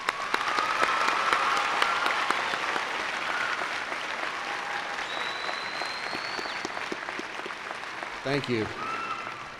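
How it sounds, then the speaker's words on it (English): Commencement audience applauding faculty and staff, a broad sustained clapping from a large crowd that slowly thins out, with a brief voice near the end. "Please join me in recognizing them with your applause."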